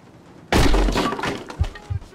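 In the horror escape game Metel, an axe smashes through a door with a sudden loud splintering crash, then debris clatters and a few dull thumps follow.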